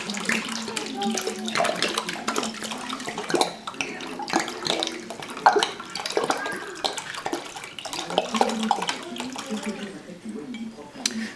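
One litre of water pours steadily into a saucepan, a continuous splashing rush with a voice speaking over it now and then.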